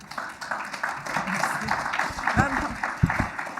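Applause from a lecture audience at a university history colloquium, a steady, dense patter of many hands clapping at moderate distance, continuing throughout with some louder individual claps.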